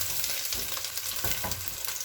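Golden-fried onions with ginger garlic paste sizzle loudly in a pan, stirred with a few scraping strokes. The frying hiss is steady and close, with no talk.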